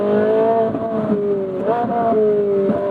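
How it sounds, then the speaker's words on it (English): High-revving engine of a Ferrari 458 Spider or Porsche Boxster Spyder sports convertible, heard from inside, with tonal pitch climbing and dropping sharply as downshifts blip the throttle, steady and fairly loud. "nice downshifts"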